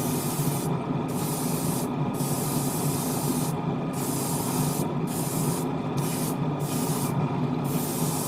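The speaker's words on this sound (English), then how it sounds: "Alright, I am priming these parts." Primer is sprayed from a can onto small Gundam plastic model kit parts in a series of short close hissing bursts, about six of them, over a steady background hum with no talk.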